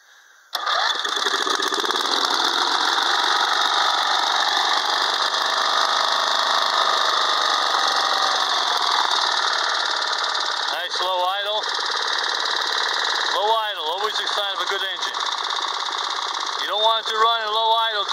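An old Snapper riding mower engine runs steadily and loudly at a fast idle with a buzzy, even drone throughout, while intermittent chirps or squeaks cut in briefly near the end.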